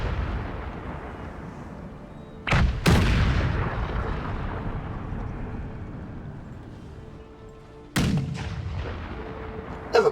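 Artillery in the Empire Total War video game fires in heavy booming blasts, two sharp volleys each trailing off into long rumbling decay, loud and close with no talk.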